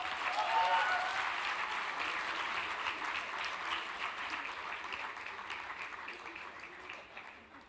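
Applause at a university convocation ceremony: a sustained wash of clapping from a large audience, strongest at the start and slowly tapering off over several seconds.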